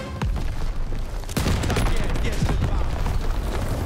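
Heavy gunfire aimed at ammunition crates in Call of Duty WWII, dense overlapping shots and booming blasts, loud and near, with no pause across the whole stretch and a sharp crack about a third of the way in.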